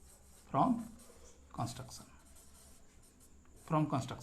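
Pen strokes from writing out a geometry proof on congruent triangles during a lesson, with three short scratchy bursts separated by quiet pauses. Brief voice-like sounds mix in with the strokes.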